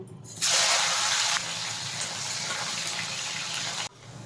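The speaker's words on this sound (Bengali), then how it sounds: "এবার আমি উচ্ছেটা ভেজে নেব" A loud hiss and sizzle of bitter gourd frying in hot oil, bursting in suddenly, then settling into a steady, slightly quieter crackle before cutting off.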